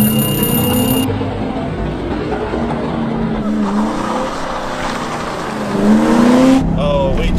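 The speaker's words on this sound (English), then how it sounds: "Oh, way too much wheel spin." A car's engine revs hard and its tires spin and squeal on launch, loud and continuous with rising engine tones, while voices talk over it.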